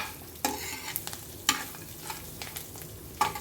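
Curry leaves and tempering spices frying in oil for a sesame chutney, a steady sizzle broken by several sharp spatula scrapes and knocks against the pan, near and fairly quiet.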